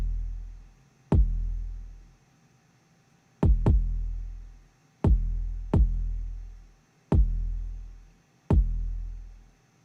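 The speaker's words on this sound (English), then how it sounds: "with the kick, it sounds like this" An 808 kick drum plays alone in a music production beat. Six deep booming hits arrive in a sparse, uneven rhythm, each with a sharp attack and a long decaying low tail, with some landing as quick doubles.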